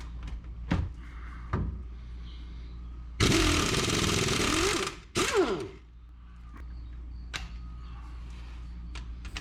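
A pneumatic impact wrench with a 1/2-inch drive 6-point socket zips off a differential carrier nut on a 1966 Ford Mustang, a loud close burst of rapid hammering lasting under two seconds, then a shorter second burst, with faint clinks around it.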